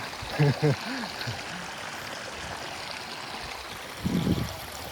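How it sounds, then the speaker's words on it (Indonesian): A mountain stream on Mount Pangrango flows with a steady, soft rushing wash that runs continuously in the background, while a person speaks briefly at the start and again near the end. "Ini juga suara airnya. Adem banget di telinga."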